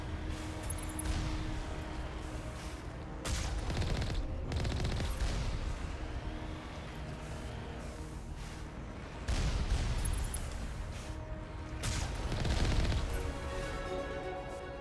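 Moving turrets fire in Mass Effect 1, Legendary Edition, during a fight with Batarians. Several loud sustained bursts of rapid fire swell and fade against a constant battle din.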